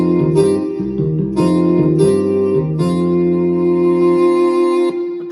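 An intro song track plays with drums added under sustained melodic synth chords, with stepping note changes and periodic bright cymbal-like hits, loud and alone without talk.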